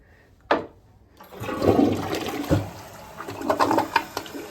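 A toilet in a small hotel bathroom flushes after a sharp click of the handle. A loud, close rush of swirling water follows and keeps gurgling and churning as the bowl drains and refills, with no talk.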